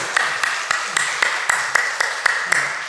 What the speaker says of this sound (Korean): 약속하는 의미로 박수로 하나님께 먼저 영광 올려주세요.